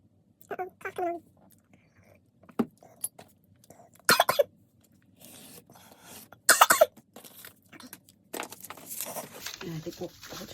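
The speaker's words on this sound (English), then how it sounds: "Uh-oh, cough coming on." A person coughs in several short, sharp bursts spread across ten seconds in a quiet room, with soft throat sounds and quiet speech in between.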